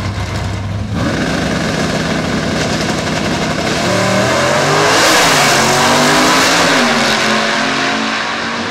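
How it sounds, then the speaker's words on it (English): Drag racing cars at Woodburn Dragstrip during a fall elimination round roar loudly and close by, engines revving high and then climbing in pitch as they accelerate away, a sustained howl filling the whole stretch. "Jamie Ross gets to keep on racing."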